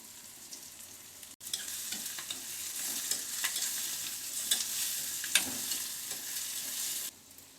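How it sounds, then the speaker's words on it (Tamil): Spices sizzle and crackle in hot oil, stirred in a pan with scraping spoon sounds, steady frying throughout until it abruptly quiets. "இதை ரொம்ப வதக்கணும்னு தேவையில்லை, இந்த மாதிரி வதக்கினாலே போதும்."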